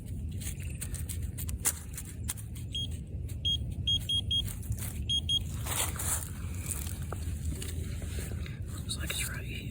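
A Minelab Vanquish 440 metal detector gives short, high beeps in small repeated clusters, fairly faint under quiet talking and outdoor rustling and handling noise.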